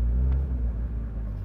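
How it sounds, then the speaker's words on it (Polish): A Porsche 911 GT3 RS engine idles with a loud, steady low rumble and a rough, rattly undertone, close by and continuous, with no talking. "Tam cały czas coś rzęzi, stuka, tak jakby ten silnik miał się rozlecieć."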